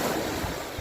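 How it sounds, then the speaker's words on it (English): Ocean surf rolls in at a beach, a steady broadband wash of waves with wind buffeting the microphone, loud and continuous through the short stretch with low rumbling swells. "I'll turn this around and you can listen to waves for a minute."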